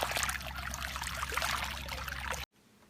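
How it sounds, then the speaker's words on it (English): Water trickles and splashes steadily in a toy pool play set, a close, continuous bubbling flow that cuts off abruptly near the end into near silence. "Whoa, look at all that water. It's like a river of water."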